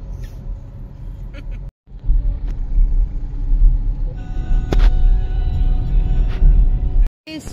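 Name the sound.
car driving on the road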